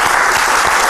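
A brief burst of loud, dense audience applause at a televised talk-show gathering about memory, continuous close clapping with no pause.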